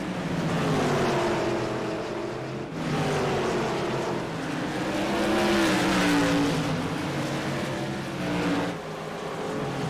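Stock cars racing at Southern National Motorsports Park in a short-track event, engines roaring loud and continuous as a pack passes, with a dense layered drone that swells and dips through the clip.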